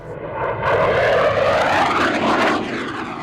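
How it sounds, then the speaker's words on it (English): An F-15 Eagle fighter jet roars past in a high-speed pass at over 650 mph, a loud, sustained sweeping rush with a clear pitch-shifting whine that swells and holds near, then eases slightly as it passes. "Traveling at more than 650 miles per hour, the high-speed pass."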